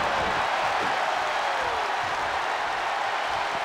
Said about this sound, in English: Look at Hogan getting the crowd involved